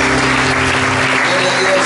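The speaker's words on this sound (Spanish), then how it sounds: "Denle un aplauso al Señor por ello." Congregation applauding for the Lord at a church service, a loud, steady wash of clapping filling the room, with some voices and a sustained musical tone underneath.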